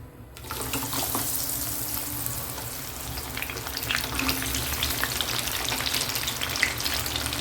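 Corn sizzles and crackles steadily in hot oil, a dense bubbling hiss that starts abruptly and keeps going close by.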